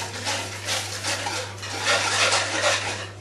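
Whisking egg yolks with sugar in a bowl for a chocolate cake, a continuous rhythmic scraping and swishing of utensil against the bowl over a steady low hum, with no talking.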